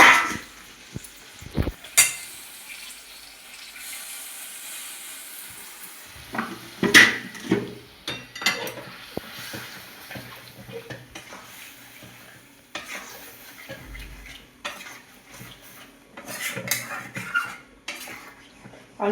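Mutton curry, cooked down and then given a little water, stirred in a pot for a Bengali cashew mutton dish: repeated scraping and clinking of a spoon against the metal pot with a soft sizzle, close and fairly loud, no talking.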